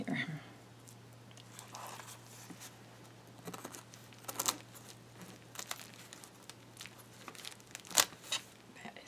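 Old scissors cut through stiff Dollar Tree craft material with sporadic crisp snips and crinkling, faint and close, scattered across quiet stretches with a low steady hum underneath.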